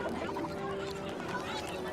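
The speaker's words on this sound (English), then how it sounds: "The bubbling mass of remaining creatures squawk together in nonsensical outrage." Creatures in the video game Torment: Tides of Numenera squawk together in a continuous, dense clamor of bird-like honks and clucks, steady and mid-loud.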